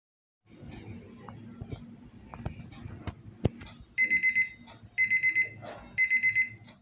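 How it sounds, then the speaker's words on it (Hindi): A bedside alarm clock set for 6 AM goes off, three loud bursts of rapid repeating electronic beeps, each about a second long, after quiet room rustling and soft knocks. "6 बजे का अलार्म इसलिए लगाया था मैंने"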